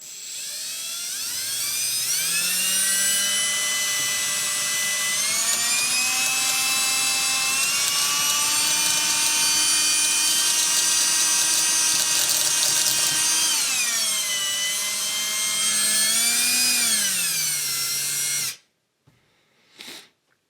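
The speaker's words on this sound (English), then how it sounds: "So you can see it just kind of drills it out." Power drill fitted with a left-handed bit boring out a stripped set screw on an RC car, a steady high whine with rising and falling pitch for about eighteen seconds before stopping abruptly.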